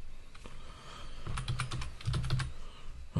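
Quiet typing on a computer keyboard: soft key clicks come in short quick runs, with a few pauses and a louder final tap.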